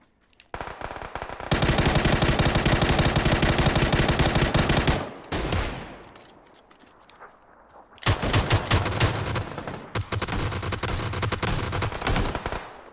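Loud automatic gunfire from the video game PUBG comes in two long, dense bursts separated by a few seconds of quieter fading echo, with no talk over it.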